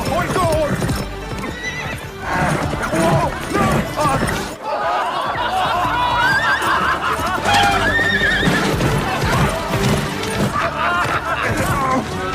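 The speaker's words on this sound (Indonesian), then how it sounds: "langsung lari tuh kuda" A black horse runs off with its rider, its hooves clip-clopping in a steady, loud gallop. Neighs and music play along, and voices are heard throughout.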